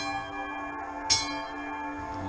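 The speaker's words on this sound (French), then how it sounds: "Nous sommes ici pour sonner la cloche." A memorial bell rung at the Hartmannswillerkopf, a First World War site in Alsace, during an 11 November commemoration; its steady ringing tones hum on with a single brighter strike partway through.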